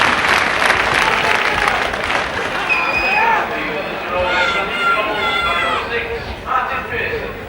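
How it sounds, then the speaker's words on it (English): A rugby league crowd behind the posts cheers and applauds after a kick at goal, a broad roar that swells and fades under a commentator's continuous talk, with a few shrill whistles rising above the crowd. "The crowd love it behind the sticks"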